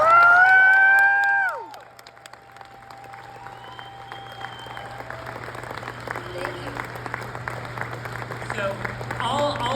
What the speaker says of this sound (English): One great round of applause for everyone.